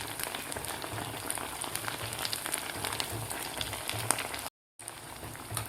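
Bhagar (barnyard millet) vadas frying in oil until golden, with a steady crackling sizzle like light rain that continues evenly, broken once by a brief silent gap.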